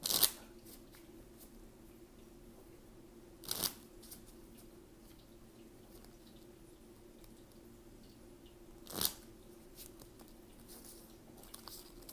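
Tarot cards are riffled and handled in a quiet room, with a crisp burst at the start and two more short shuffling rustles later over a low steady hum.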